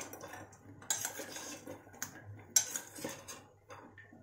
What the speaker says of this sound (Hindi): सबको क्या करेंगे इसको अच्छे से मिक्स करेंगे ताकि ये मैरिनेट हुआ रहे